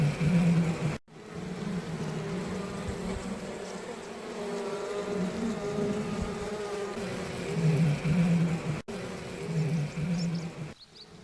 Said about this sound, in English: This is our hive of honeybees.